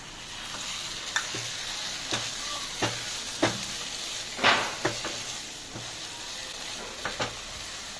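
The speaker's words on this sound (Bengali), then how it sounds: "কিছু পরিমাণ ভাজা পনির দিয়ে দেবো।" Raw and fried paneer sizzle steadily in a hot pan for palak paneer, with a spatula scraping and tapping at irregular intervals over the continuous frying hiss.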